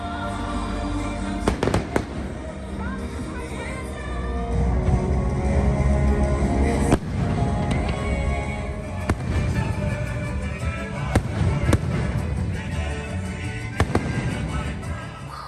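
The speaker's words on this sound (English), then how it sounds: "came back to Epcot later on that evening and caught the fireworks" Fireworks burst over EPCOT as seen from the China Pavilion at a Chinese New Year evening show, sharp cracks and booms repeating over a continuous rumbling wash of crowd and explosions.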